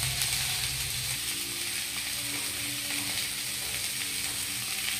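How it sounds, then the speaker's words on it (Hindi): Potatoes and cauliflower are pan-roasted for Bihari-style aloo gobi, giving a steady, dense sizzle with faint stirring sounds throughout and no talk. "हम आलू और गोभी को फर्स्ट क्लास भून लेंगे"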